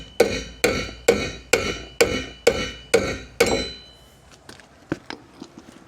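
Sharp metallic whacks on a part during fuel float repair on a 1980 Lincoln Town Coupe: about eight evenly spaced, ringing hits, then a few lighter scattered taps, close and loud, with no voices.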